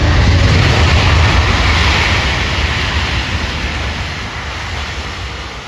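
A jet airliner's thrust reversers roar after touchdown at the 2023 Great West Virginia Airshow in Martinsburg, a loud, continuous broadband rush that holds steady and slowly fades over several seconds, with no voices.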